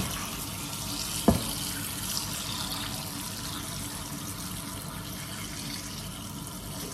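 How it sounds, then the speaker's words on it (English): Water running from a tap into a cooking pot for banga soup, a steady faint splashing stream with one brief clunk near the start, no voices. "The next thing is to put water."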